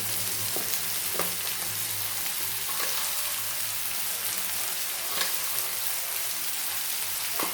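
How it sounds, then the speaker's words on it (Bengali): Vegetables fry in a pan with a dense, even sizzle like light rain, close and steady throughout, broken only by a few soft spatter pops and stirring taps. "এইটাকে আমি ভেজে নিচ্ছি সবজিগুলো"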